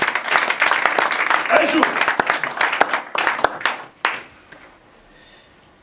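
A church congregation claps and applauds in praise for about four seconds. Voices call out over the dense clapping, which then fades into quieter room sound and brief speech.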